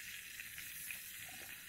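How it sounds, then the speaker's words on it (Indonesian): Sausages frying in a pan while camping on a mountain, a steady close sizzle with faint crackles running throughout, no voices. "Ini mau goreng sosis."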